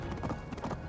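A horse in the Assassin's Creed Valhalla video game gallops along a road, giving a steady, rapid clip-clop of hooves at close range under a dense layer of game sound.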